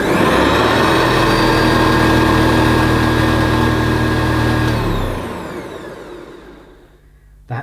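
A Hoover Senior C1300 commercial upright vacuum cleaner motor runs loud and steady with a whining hum, then winds down and fades toward silence, ending with a faint click.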